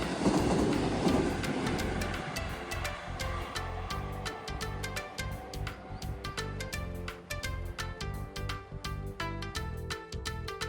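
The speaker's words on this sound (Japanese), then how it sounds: "そして少しのどかな電車の風景をお楽しみください。" A train passing on the Tokaido Main Line, close and loud, with a steady rhythmic clatter of wheels over rail joints and rumbling cars rolling by for the whole stretch.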